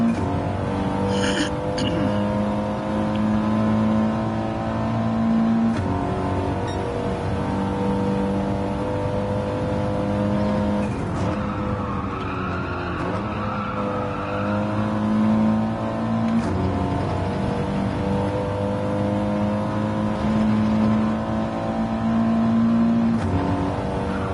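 A GT4 race car's engine drones steadily through a lap of the Kyoto circuit in a racing game, holding a loud sustained note with brief dips and rises at gear changes and corners, alone without talk.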